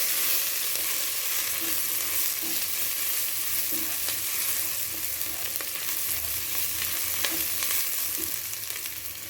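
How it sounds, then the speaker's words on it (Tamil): Onions and mixed vegetables sauté in a pot for bisibelebath, a South Indian sambar rice, giving a steady, close sizzle with a few soft stirring knocks and no voices. "வெங்காயம் நல்லா வதங்கினதும் ஒவ்வொரு காயை ஆட் பண்ணி வந்துட்டேன்"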